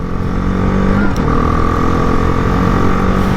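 A BMW G310R motorcycle's engine drones loud and close under throttle, a steady mid-pitched hum with rising harmonics as it accelerates.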